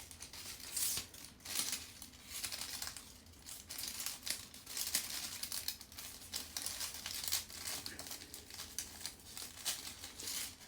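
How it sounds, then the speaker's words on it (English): Homecoming mum ribbons being folded back over produce steady, close crinkling and rustling that runs continuously throughout with small irregular swells, no voices. "And then let's fold those back over"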